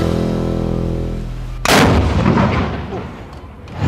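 A ceremonial cannon fires once in Casemate Square, a sharp, very loud boom breaking through a steady hum and rolling away in a long, fading outdoor echo.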